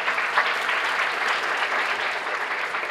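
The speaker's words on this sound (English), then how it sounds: "Please give them a round of applause again, please." Sustained applause from an award ceremony audience, dense and even throughout, close and loud with no break.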